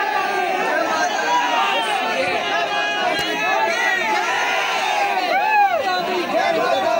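Large throng at the Nanda Devi Dola procession, overlapping voices and shouted calls forming a steady loud babble, with a few rising cries near the end.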